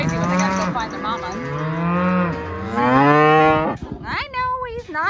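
Loud, close cattle lowing in long drawn-out moos, one after another, ending with a higher, wavering bellow, as calves call for their mothers.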